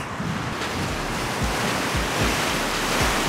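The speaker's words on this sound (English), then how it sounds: "these are massive waves" Waves crash rhythmically on a lake shore under constant, heavy wind buffeting the microphone.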